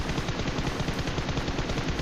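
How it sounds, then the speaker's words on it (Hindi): Rapid automatic gunfire in PUBG, a dense continuous burst of shots lasting about two seconds, loud and near with no talking. "क्योंकि मुझे को उधर से आवाज़ आने लगी थी गन की।"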